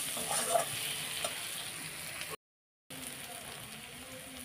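Chopped peanuts fry in a pan with a steady, soft crackling sizzle, cut by a brief gap of silence before the frying resumes.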